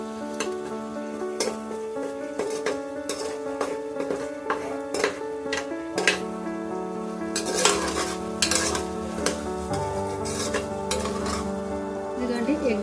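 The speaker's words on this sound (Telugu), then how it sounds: "పచ్చివాసన పోయే వరకు కలుపుకోవాలి అల్లం వెల్లుల్లి పేస్ట్." Ginger garlic paste being stirred in a pan for egg Hakka noodles, with repeated spatula scrapes and metallic taps against the pan under music that continues throughout.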